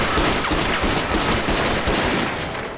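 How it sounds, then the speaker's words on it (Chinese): Heavy gunfire in a kung fu action film battle, a dense, continuous fusillade of rapid overlapping shots, loud and close, with no talking. "你们听，这枪声越来越远了"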